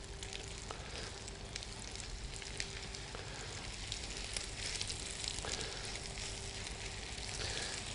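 Haddock fillets fry in foaming butter in a pan, a faint, even sizzle with fine crackles that holds steady throughout with no talk.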